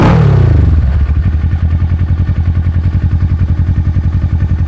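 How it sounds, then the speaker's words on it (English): A used motorcycle engine settles back to idle at about 1200 to 1300 RPM after a rev, loud and close, with a fast, even, steady pulse and no voices. "So the bike has come down to its normal idle. We're sitting 12 to 1300 RPMs."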